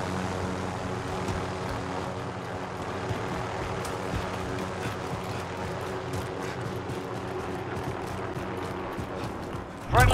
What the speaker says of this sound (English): Found a helicopter. Ready for takeoff.